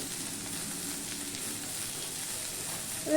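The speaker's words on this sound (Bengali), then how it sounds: "নুনটা দিয়ে আমি এবারে এটা ভাজতে থাকবো এটা আমি ঢাকা দিয়ে দিয়েই ভাজতে থাকবো" Small fish with onion and potato fry in a pan after salting, giving a steady, close sizzle that holds even throughout, with a brief louder crackle at the very end and no talking.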